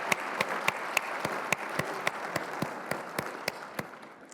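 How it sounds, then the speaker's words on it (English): Audience at a conference opening session breaks into applause, a soft, steady wash of clapping with distinct individual claps punctuating it, moderately distant. "Yes, let's clap for that."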